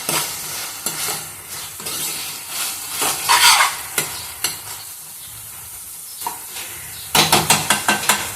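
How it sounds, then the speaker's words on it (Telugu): Ridge gourd peel sizzles in a hot pan while a spoon stirs it in bursts, scraping and clinking against the metal, with quieter frying between strokes and a final flurry of quick stirring taps. "ఇది కొంచెం ఫ్రై అవుతూ ఉంది"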